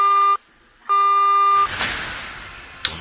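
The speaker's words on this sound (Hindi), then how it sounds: "कुछ देर के लिए फोन बजा और उसके बाद डिस्कनेक्ट हो गया।" A phone rings with two bursts of bright electronic tone, close and clear, then cuts off into a hiss and a short click, as if the call disconnects.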